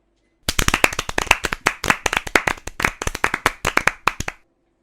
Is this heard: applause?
yes